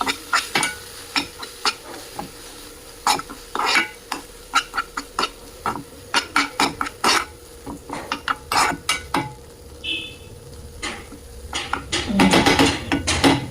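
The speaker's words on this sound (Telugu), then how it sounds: "మిక్స్ చేసేద్దాం ఫస్ట్" A spoon scrapes and clacks repeatedly against a pan while chili powder is mixed into frying spices, quick irregular stirring taps over a faint sizzle, with a louder frying hiss near the end.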